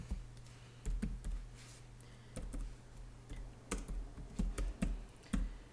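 Numbers keyed into a Shiny statistics app on a computer keyboard: a few separate clusters of crisp, close key clicks with short pauses between them, no talking.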